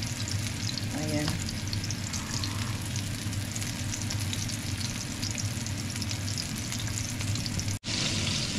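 Hamburger patties frying in a home kitchen, a dense continuous sizzle and crackle of hot fat, close and steady throughout, with a brief cut near the end.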